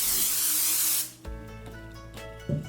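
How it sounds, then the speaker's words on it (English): Cooking spray hisses in one steady, bright burst for about a second into a nonstick bundt cake pan, then stops, followed by light clinks and handling sounds close by. "Spray your nonstick cooking pan."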